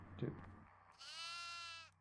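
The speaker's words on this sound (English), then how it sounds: "Ah, there's a goat." Goat bleating in the horror game Devour, one drawn-out, wavering cry that stands out clearly after a short burst of background sound.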